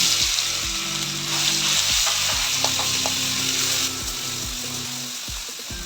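Cumin seeds and a crushed green chilli-garlic paste fry in hot oil with a steady, close sizzle and crackle, while a spoon scrapes and stirs against the pan in several short bursts.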